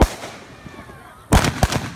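Fourth of July fireworks bursting nearby, with a loud sharp blast followed by a second crackling pop after a stretch of quieter background noise.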